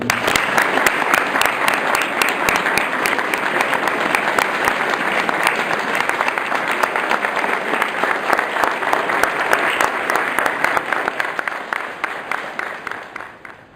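At a Boy Scout Troop 318 Court of Honor, a roomful of people gives sustained applause for Mr. Murray, a thick, steady roar of clapping that continues at full strength before thinning out and fading near the end.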